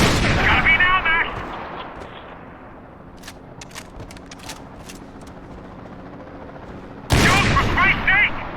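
Gunfire in a Max Payne 3 shootout: a loud burst at the start, then a quiet stretch with scattered sharp distant shots and clicks, and another loud burst near the end, with voices talking over it.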